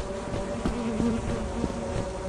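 Bees in a video game make a continuous droning buzz, fairly loud and close, with pulsing swells in the hum and no voices.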